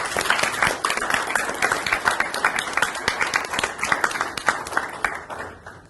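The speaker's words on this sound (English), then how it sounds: "Why don't we give them a round of applause?" An audience at an investment challenge event gives a round of applause, a dense, steady patter of many hands clapping at moderate distance that thins and fades toward the end.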